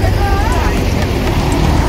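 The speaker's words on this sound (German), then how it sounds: "Und jetzt kommt ein Bus." A bus passes close by on a busy street in Rome, its steady low engine rumble and road noise continuous and fairly loud, blending with surrounding traffic.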